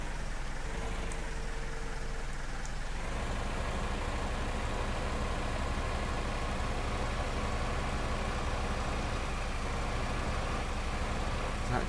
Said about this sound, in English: This little Massey is a great little tractor.